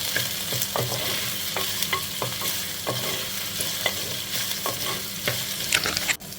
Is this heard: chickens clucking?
no